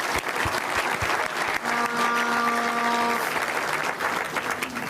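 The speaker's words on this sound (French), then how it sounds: "Ils méritent tous nos applaudissements." Steady applause from an audience at a ceremony honouring championship-winning players, dense clapping filling the whole stretch with a brief tonal hum partway through.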